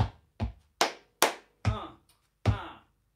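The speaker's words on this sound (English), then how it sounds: "We just clap on the second clap" Six sharp hand claps of body percussion, evenly spaced about half a second apart, close and crisp with quick decays and no talking.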